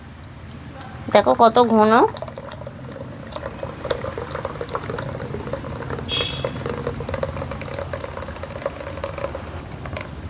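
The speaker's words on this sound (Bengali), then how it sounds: "এবার আমি এই দুধটা ঢেলে দেব, এই জাল দেওয়া দুধটা।" Boiled milk is poured into a clay pot to make mishti doi. A soft, steady liquid gurgle and splash runs throughout, and someone speaks briefly near the start.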